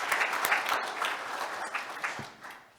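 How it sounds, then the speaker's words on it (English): Conference audience applauding a police chief during an emergency services session, a short burst of clapping that is loudest at the start and tapers off over about three seconds. "Give him a round of applause."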